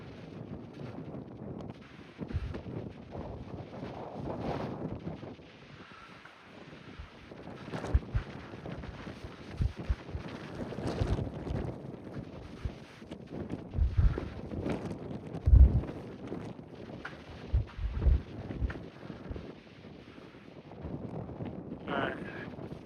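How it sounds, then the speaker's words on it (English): Brisk wind on the Appalachian Trail gusts and rumbles against the microphone in uneven bursts, fairly quiet overall, with faint movement noises mixed in. "Ooh, the wind is brisk."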